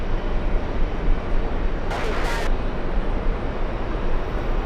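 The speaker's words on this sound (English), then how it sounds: "Next arrival on 22 left, we have Delta Airlines 209 flying in from Edinburgh, Scotland" A Delta Airlines jet arriving from Edinburgh lands on runway 22 Left at JFK, a steady broad roar with a short brighter burst midway, heard from a distance under some background noise.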